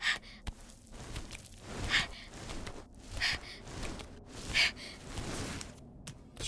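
Trico, the giant feathered creature in The Last Guardian, breathing heavily in a slow rhythm of gasping, sighing breaths that repeat every second or so, close and moderately loud, with no talking.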